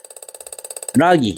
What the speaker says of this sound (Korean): VDC 밸브도 전혀 문제가 없습니다. 이게 작동 소리가 잘 나오고 있습니다.